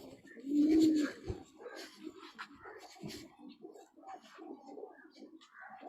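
Pigeons coo in a loft, starting with one loud, close, rolling coo followed by a string of softer, overlapping calls and light rustling.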